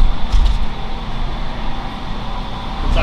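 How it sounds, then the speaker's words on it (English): Generator running nearby beside a trailer at a Texas-style turkey breast barbecue, a steady dense broadband engine drone that fills the whole clip at constant loudness, with no voices. "Excuse the noise. It's my generator running over there"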